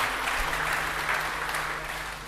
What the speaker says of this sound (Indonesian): Tepuk tangan bagi Tuhan yang luar biasa